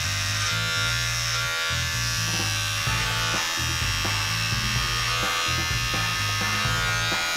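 An electric trimmer buzzes close up while cutting neck hair and sideburns, its steady whine dipping and rising in short strokes as it passes over the skin.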